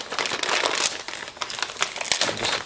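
Crinkly plastic packaging for a three-tier set of pet stairs crackles and tears steadily as it is cut open close by, with dense, uneven crumpling throughout and no talking.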